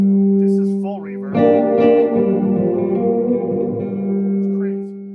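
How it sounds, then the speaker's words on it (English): Bad Cat Cub 40R USA Players Edition tube guitar amp with reverb turned fully up: a sustained played chord blooms into a long, washy reverb tail that hangs loudly across the whole passage before fading. "I mean, this is full reverb."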